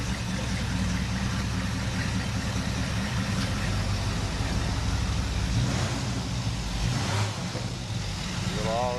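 A new car motor idles with an even, low rumble that stays steady throughout, close and fairly loud, while someone talks over it.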